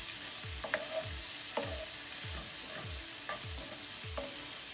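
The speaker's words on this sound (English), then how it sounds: "we're gonna continue to just cook this for a couple more minutes till we get those onions tender and this pepper" Onions and a seeded jalapeno pepper sizzle steadily in a pan for a pork and coconut curry, while a spoon stirs and scrapes through them in repeated strokes at close range, with no voices.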